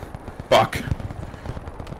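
A burst of machine gun fire from an MG in a tower in the World War II shooter Hell Let Loose on the Kursk map, one sharp loud report followed by a quick second crack and fading rattles.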